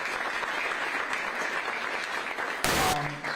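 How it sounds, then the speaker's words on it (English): Audience at a city council panel breaking into applause, a steady dense round of clapping filling the room, with a brief harsh burst of noise near the end. "let's give everybody a big round of applause."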